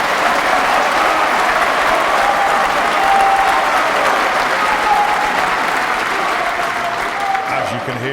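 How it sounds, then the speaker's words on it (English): Audience applause fills the arena during the final frame of the 2011 Masters snooker final, a dense, steady round of clapping that stays loud throughout and eases slightly at the very end. "As you can hear from that round of applause"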